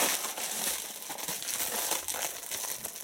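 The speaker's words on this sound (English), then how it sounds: "Black cellophane wrapper." Black cellophane wrapper crinkles and crackles continuously as it is pulled off a boxed Sony CX190 camcorder, close and fairly loud, with no talking over it.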